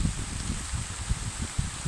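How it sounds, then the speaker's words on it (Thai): Light rain falls steadily on a forest garden, making a soft, even wash of drops and rustling foliage with occasional low thuds, close and continuous with no voices. "ฝนตก ค่อนข้างจะ ไม่แรงเท่าไหร่แต่ก็ ชุ่มฉ่ำนะครับ"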